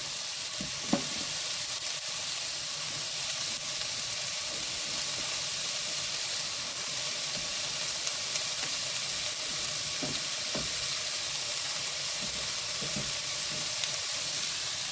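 Packet stir fry vegetables sizzling steadily in a pan after about five minutes of cooking, a constant bright hiss with occasional faint clicks and stirring sounds, alone without talk.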